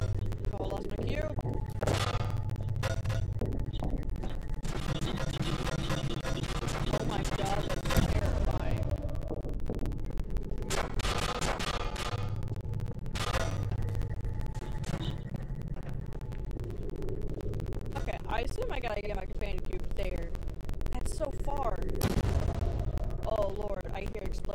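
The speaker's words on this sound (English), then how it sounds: "Explosions." Booming explosions sound in the puzzle video game Portal, heavy blasts that recur through a long stretch with a continuous rumble underneath and a voice talking at times.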